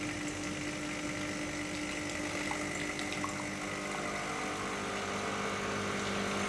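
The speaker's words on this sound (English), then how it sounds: "Press the coffee button and allow hot water to flush through the system." A De'Longhi Icona espresso machine flushes hot water through its system into a cup, a steady, fairly loud pumping whir with a watery rush that holds evenly throughout.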